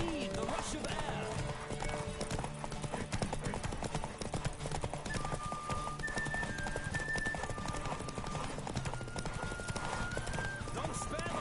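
A horse gallops at speed in the video game The Witcher 3, rapid hoof clip-clops under a steady rush of air, with a whinny and people talking over it.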